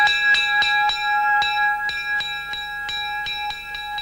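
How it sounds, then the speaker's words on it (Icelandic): A bell rings out to signal lunchtime at a summer camp, sounding about a dozen bright, sustained metallic strikes in a steady, somewhat uneven rhythm, each note ringing on and overlapping the next, with no voices heard. "Já, bjallan táknar að það er kominn hádegismatur"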